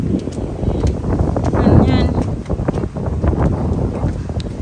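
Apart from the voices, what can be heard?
strong wind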